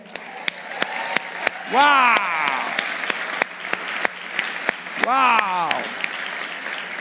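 Steady, evenly spaced handclaps keep a brisk rhythm at a New Year countdown while voices cry out excitedly twice over them.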